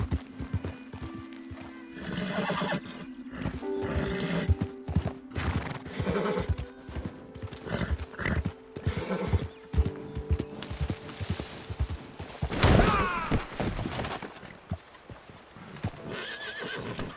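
Horse in Red Dead Redemption 2 galloping with rapid clip-clop hoofbeats and snorting, loud and near, with a prominent whinny partway through and scattered distant gunfire.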